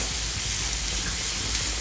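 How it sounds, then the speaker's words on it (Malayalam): A pan of stuffed squid hisses steadily as a little water is poured in, a continuous close sizzle and steam with no talk. "ഇനി ഇതിലോട്ട് നമുക്ക് കുറച്ച് വെള്ളം ഒഴിച്ചു കൊടുക്കണം ശകലം"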